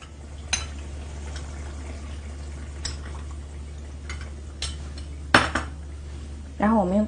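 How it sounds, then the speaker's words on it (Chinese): A utensil scrapes and clinks against a pot while a cornstarch slurry is stirred, scattered light knocks over a low steady hum, ending with a brief voice. "我们把这个水淀粉把它搅匀"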